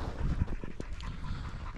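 Hunting dogs pant close by during a wild boar chase, quick rough breaths with a brief whimper, wind noise rustling over the microphone and no talking.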